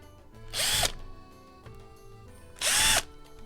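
Two short bursts from a power drill backing screws out of a Wii console, each a bright whirring spin lasting under half a second, close up, with quiet handling noise in between.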